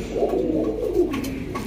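Fancy pigeons at a pigeon farm coo in low, steady, rolling murmurs that run continuously and fairly close, with no voices over them.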